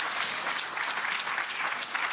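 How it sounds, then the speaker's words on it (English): Warm, sustained applause from a conference audience thanking the panelists, a dense, even clatter of many hands clapping at close range, with no speech over it. "to thank our panelists and to give them a warm applause"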